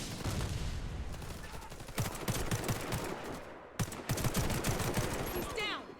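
Automatic fire from a ZX84 SMG in the video game Warface crackles in quick, repeated bursts, with short pauses between volleys and some voice mixed in.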